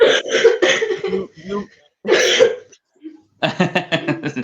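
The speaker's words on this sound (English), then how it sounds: "She's got a cough." Coughing breaks up through bursts of voiced sound, with several rough, throaty coughs near and loud amid people talking.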